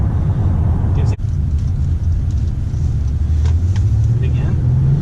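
A 2019 Honda Passport with a 9-speed automatic accelerates hard, its engine a steady, loud low rumble with road noise heard from inside the cabin, without any talking.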